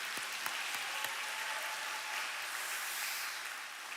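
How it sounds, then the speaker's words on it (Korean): A church congregation claps together at an anniversary worship service. The applause blends into a soft, continuous wash of clapping that seems somewhat distant and holds steady for several seconds, with a few sharper claps near the start and no speech. "하나님 아버지께 한번 박수로 뜨겁게 영광 돌리겠습니다"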